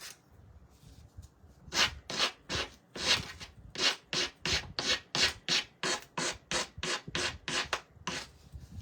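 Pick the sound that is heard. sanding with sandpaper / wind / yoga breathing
sanding with sandpaper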